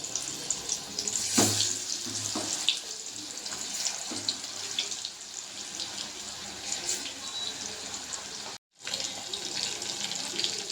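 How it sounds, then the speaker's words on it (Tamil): Chicken frying in hot oil for a fried chicken gravy, a steady close hiss and sizzle like running water with occasional pops, broken by a brief moment of silence near the end. "எண்ணெய் காஞ்சிருச்சு சிக்கனை போட்டு பிடிச்சிக்கலாம்"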